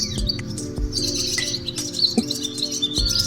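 Birds chirp and tweet outdoors in a busy mix of high calls, with soft thumps and a low background hum beneath them.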